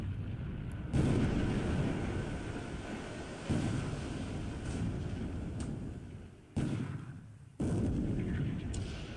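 Naval gunfire and shell hits in the War in the Pacific naval war game, heavy booming bursts rolling one after another with abrupt cuts between them, fairly faint and without talk.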